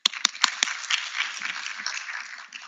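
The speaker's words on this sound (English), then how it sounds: "Let's give a better clap." A conference audience at a law school event claps, opening with a few sharp, distinct claps that quickly blend into a moderate, thinning patter of applause.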